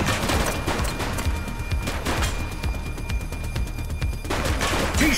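Gunfire in The Precinct police game comes as a dense run of sharp, close shots with irregular cracks throughout, over steady background noise, with no talking.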